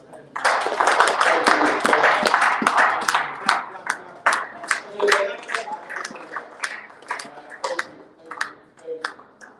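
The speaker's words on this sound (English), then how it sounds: "Clap for them." A meeting audience claps, starting as thick, steady applause and then thinning into scattered, separate claps that trail away over several seconds.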